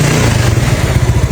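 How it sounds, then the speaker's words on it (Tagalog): A Yamaha Mio Sporty scooter engine runs steadily with its fuse pulled and a charging fault under test, giving a loud, close, even putter with no talking. "Normal po ang andar ng makina."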